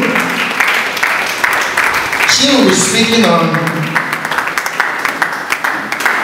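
Audience applause at a teaching-profession conference on job crafting, a broad wash of clapping running through the clip while someone speaks over it.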